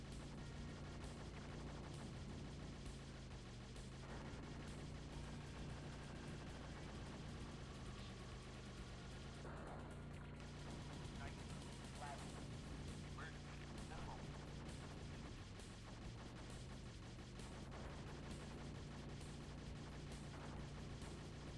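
Gunfire blasts away turrets in a 3DO shooter game, a dense, continuous wash of shots and explosions with a steady low drone, loud throughout, while a voice talks over parts of it.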